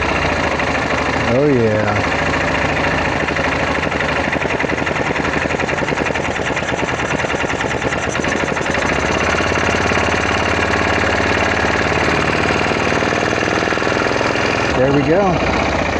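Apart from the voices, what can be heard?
Yamaha Kodiak ATV engine running after carburetor replacement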